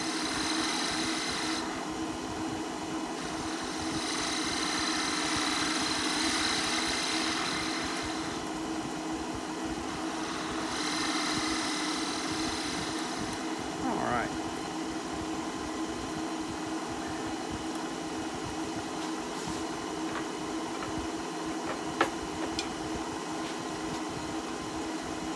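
A wood lathe hums steadily while turning a goblet with a detail gouge, with a continuous motor drone and soft, faint swishes of cutting drifting in and out at close range.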